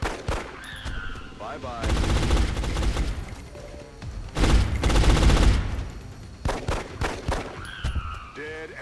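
Pistol fire in the strategy game XCOM comes in loud, rapid bursts of repeated shots with pauses between the volleys, and a voice speaks briefly over the game sounds.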